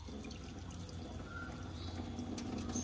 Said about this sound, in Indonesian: Ini kita coba siram di sininya. Nih, tuh airnya tuh.